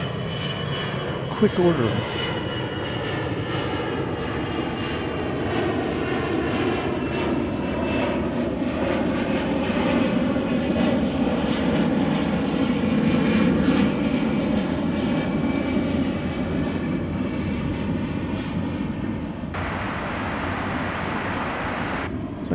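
Aircraft engines roar at DFW Airport as a plane passes close and loud, a sustained broadband rumble with shifting tones, while someone talks over it and a hiss rises near the end.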